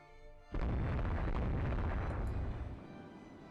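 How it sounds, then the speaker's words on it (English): A naval strike in the Rule The Waves 2 video game sets off one loud, sudden explosion that starts abruptly and rumbles for about two seconds before fading out. "there's the naval strike"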